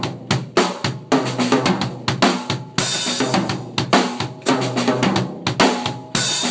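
A Sonor drum kit with a 16-inch floor tom, 22-inch bass drum and an old 1960s Supraphonic snare is played in a close, loud groove of sharp repeated hits and tom rolls, with cymbal crashes ringing between them.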